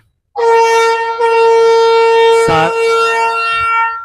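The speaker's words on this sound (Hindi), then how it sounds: "अलार्म, वो अलार्म नहीं, सायरन, क्या कहते हैं, हॉर्न, शाह लतीफ़ एक्सप्रेस का" A loud, sustained horn of the Shah Latif Express train departing for Karachi blares steadily for several seconds with a rich harmonic tone, a brief rumbling thump partway through.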